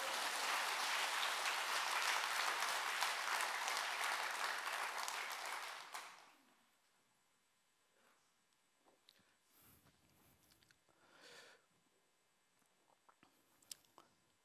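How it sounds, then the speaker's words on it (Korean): A church congregation at an evening revival service applauding loudly and densely for about six seconds before the clapping cuts off into near silence with faint stray rustles and a few small noises. "우리 하나님께 영광의 박수 드립니다"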